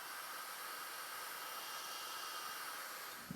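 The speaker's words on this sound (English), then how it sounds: "You can speed up the process if you want by putting the dryer on it" A dryer blows a steady, even hiss of air over freshly made work on a lifeboat or gig build, faint and constant throughout with no voices.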